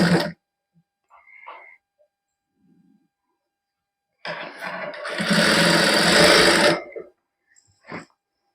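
A sewing machine stitches a folded suit lining in one loud burst of about two and a half seconds, set between brief clicks and short handling noises amid quiet pauses.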